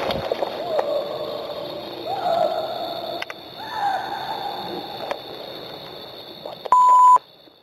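Speech with a distant splash of water gives way to a sharp, loud electronic censor beep over a swear word, lasting about half a second near the end.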